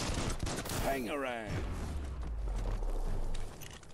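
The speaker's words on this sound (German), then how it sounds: "Einfach wie ein Irrer drauf rumschießen." Rapid bursts of gunfire from shooting in the German-language play of the video game Biomutant, a dense continuous fusillade with booms and mechanical clatter, loud and close, mixed with a character's voice and music.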